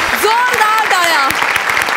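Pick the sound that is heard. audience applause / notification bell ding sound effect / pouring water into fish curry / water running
audience applause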